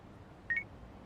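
A short pair of electronic beeps from a phone being dialed in the video game Yakuza: Like a Dragon, two quick tones close together over a quiet background.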